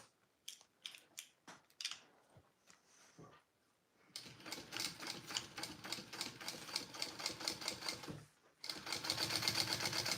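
A sewing machine stitches a piece of a Karvi Mini backpack with webbing. A few light taps and clicks come first, then a close, rapid, even mechanical whirr in two runs separated by a short pause.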